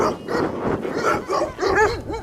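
About seven stray dogs bark and yelp in quick succession, fairly loud, ending with a couple of sharper, higher barks.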